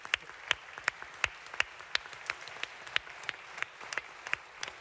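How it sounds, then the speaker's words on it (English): An audience at a London Climate Action Week event gives a round of applause, with crisp individual claps in a loose, steady patter heard fairly near and without talk over them. "I think a very well-deserved round of applause"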